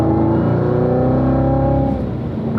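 A car on the Spring Mountain track accelerates hard and shifts up to fourth gear, the engine droning loud and close with a steady rising tone that dips briefly at the shift.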